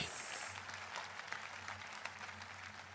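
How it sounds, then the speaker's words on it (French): Quiet congregation applause for Jesus at a French-speaking church service, a soft, distant patter of clapping with faint scattered sharper claps and a low hum underneath. "Applaudissez bien fort pour Jésus"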